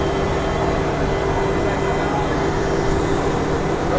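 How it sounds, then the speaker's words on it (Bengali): An express train pulls into Guwahati station, heard as a loud, continuous low rumble with a steady mechanical hum that stays even throughout. "এই দেখুন এবার আমাদের ট্রেন চলে এসছে গুয়াহাটি স্টেশনে"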